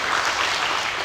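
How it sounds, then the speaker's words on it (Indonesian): Brief applause from participants at a rescue first-aid training session after a casualty-care demonstration, an even burst of clapping filling the whole moment. "tepuk tangan dulu"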